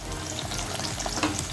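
Tomato and ginger paste frying in a pan for a gongura dal, giving a steady close sizzle with light stirring scrapes and no voices.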